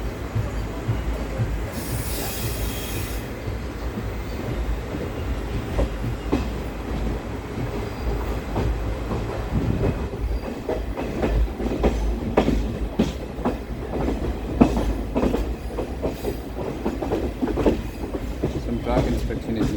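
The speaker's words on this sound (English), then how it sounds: "You can see the train climbing that gradient now." Indian passenger train, the 22149 Ernakulam Pune Superfast Express, climbing a steep monsoon ghat gradient into Lonavala station: steady loud rumble of railcars with wheel squeal and clattering rail joints throughout, with faint talk.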